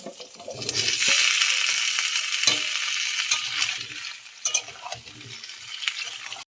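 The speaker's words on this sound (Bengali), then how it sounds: "কুমড়ো আর আলুটা আমার ভালো করে ভাজা হয়ে গেছে" Pumpkin and potato pieces fry in oil in a pan, a loud bright sizzle with clattering stirs and spatula knocks, the hiss swelling early then continuing with bursts of scraping.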